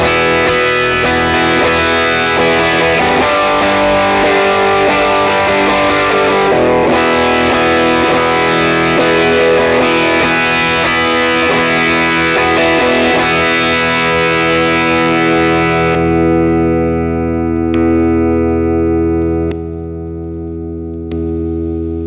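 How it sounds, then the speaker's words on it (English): An electric guitar played through a PRS Mary Cries compressor and a PRS Horsemeat overdrive pedal gives a loud, sustained, driven tone with chords and notes. The playing rings out at the end, with a few decaying plucks. "We'll turn the compressor on, and then we'll turn the overdrive on so you can hear everything."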